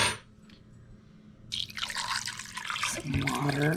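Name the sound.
water poured into pot for cooking fox squirrel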